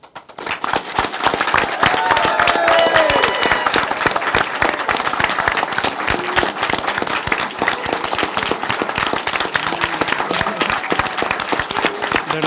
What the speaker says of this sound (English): And then we're going to start applause in about 15 seconds here.